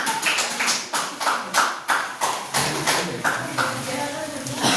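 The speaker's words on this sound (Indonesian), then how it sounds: "Sama ya, beri tepuk tangan." A school class claps hands in a quick series of rhythmic bursts, loud and close, with children's voices chattering over the later part.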